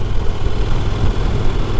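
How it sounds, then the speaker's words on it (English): A new motorcycle's engine runs through its stock exhaust, giving a loud, steady low rumble close by for a couple of seconds with no talk. "for a stock exhaust I really don't think it sounds too bad either"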